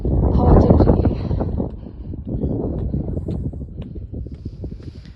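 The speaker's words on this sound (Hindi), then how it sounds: "यहाँ पर बहुत ज़्यादा ठंड है और बहुत ज़्यादा ही हवा चल रही है।" Strong, cold wind gusts across the mountainside at Dhankar Monastery, a loud, steady rumbling roar buffeting the microphone throughout, strongest at the start and then easing slightly.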